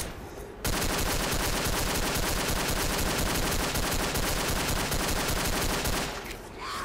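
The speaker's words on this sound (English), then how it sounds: "I was just shooting at one zombie for like 5 minutes." Rapid, continuous automatic gunfire fires at a zombie in the ProMod Dead Air video game, a dense, loud burst lasting several seconds before stopping suddenly.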